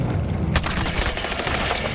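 Heavy gunfire in Call of Duty: Modern Warfare, a loud sustained automatic burst breaking in after a brief lull, with rapid rounds cracking in a continuous stream.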